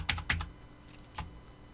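A computer keyboard is typed on during Photoshop work, with a few quick clicks close together, a pause and then one more soft click, faint and close.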